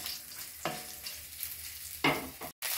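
Chillies, garlic, green chillies and curry leaves sizzle in hot oil in a new kadai as a spoon stirs them, with a steady crackling fry broken by a few louder scraping strokes, close and without voices.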